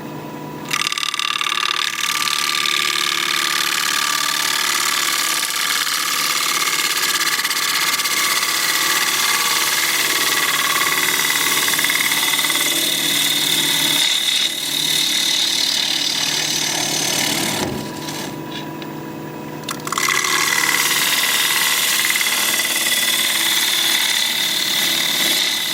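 A gouge cuts a 7-inch alder live-edge bowl on a lathe, a loud, continuous whirring scrape that holds steady for nearly the whole stretch, dipping briefly near the start and again toward the end.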